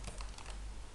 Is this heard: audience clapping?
no